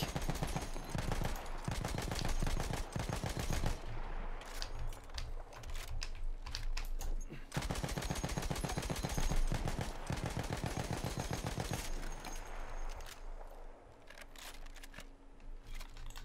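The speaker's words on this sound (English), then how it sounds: "The second weapon available for the mortar support class is the Benet-Mercie Telescopic." Benet-Mercie Telescopic machine gun from Battlefield 1 firing in long rapid bursts, a dense rattling stream of shots that pauses briefly around the middle and near the end before resuming, loud and close with no talking.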